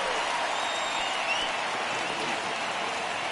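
Steady, dense crowd noise of cheering and applause from a baseball stadium crowd in Philadelphia in MLB The Show 19, broad and continuous throughout with no clear voices on top.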